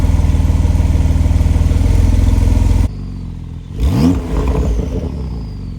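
Porsche 992 Turbo S with a stock sport muffler revving hard, a loud rapid pulsing engine note that cuts off abruptly, followed by turbo whoosh and spooling sounds as the revs fall and rise again.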